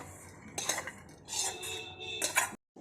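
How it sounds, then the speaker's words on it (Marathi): Plates and a spoon clink and scrape close by as poha is served onto a plate, in a few short clattering bursts ending abruptly. "मस्तपैकी पोह एका प्लेटमध्ये काढून घेऊया आपण"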